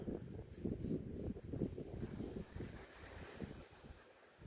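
Steady wind gusting across an open Cornish hillside, buffeting the microphone with loud low rumbling and broadband rushing that eases slightly toward the end, with no voices.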